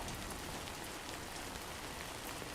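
Rain in the video game Death Stranding 2, a dense, even hiss of falling drops with no breaks, faint and steady throughout.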